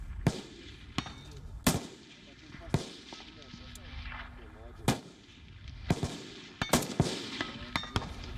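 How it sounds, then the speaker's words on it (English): Sniper rifle shots fired on a military training ground in Russia's Ryazan region, several sharp, loud single reports spaced irregularly across the stretch with echoing tails, under a low background bed. "even firing shots from a sniper rifle"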